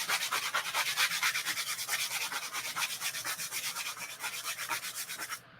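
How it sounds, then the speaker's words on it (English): A sanding block rubs back and forth over Chalk Couture decor pieces in a steady, rhythmic series of close, raspy strokes, about four per second, stopping abruptly near the end. "But I do want to just sand them really quick."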